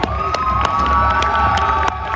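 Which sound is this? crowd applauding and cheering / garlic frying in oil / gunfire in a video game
crowd applauding and cheering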